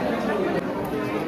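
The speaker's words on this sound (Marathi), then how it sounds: "गर्दी" Crowd chatter from people queuing at a vada pav stall, a steady dense murmur of many overlapping voices close by, brief and unbroken.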